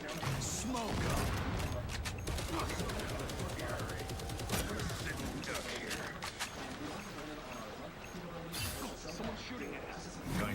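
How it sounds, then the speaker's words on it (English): Rapid gunfire bursts and machine-gun volleys from the video game RoboCop: Rogue City, loud and dense throughout, mixed with crashes and mechanical clatter, with voices talking over the battle. "Someone's shooting at us."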